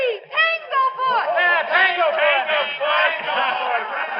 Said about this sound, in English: Tanglefoot, she said, and the crowd took it up like a battle cry.